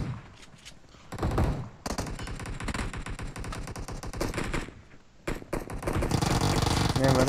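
Gunfire in the video game PUBG comes as rapid automatic bursts of close, punchy shots, with short pauses between volleys and no clear talking.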